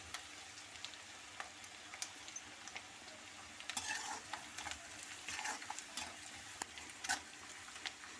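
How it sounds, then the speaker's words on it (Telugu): Onions fry in a pan and are stirred, a soft steady sizzle broken by scattered spoon scrapes and clicks, fairly quiet and close. "ఇదిగోండి ఉల్లిపాయలు బాగా ఎర్రగా వేగాలండి."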